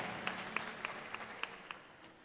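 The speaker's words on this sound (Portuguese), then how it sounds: "Aplauda Jesus." Sparse clapping from a church congregation, with a handful of distinct claps at irregular intervals over a low hum, fairly quiet and thinning out toward the end.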